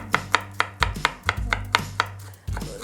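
A knife slices eggplant on a cutting board for an Italian dish: about a dozen crisp, close chopping strokes in a steady rhythm, with no talking.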